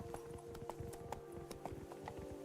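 The horse Roach's hoofbeats in The Witcher 3: Wild Hunt, a steady clip-clop of hooves at a running pace, moderately loud over faint background game ambience.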